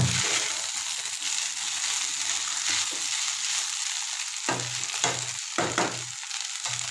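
Noodles being stirred with fresh coriander leaves in a hot pan make a continuous close sizzle, with several scraping strokes of the spatula toward the end.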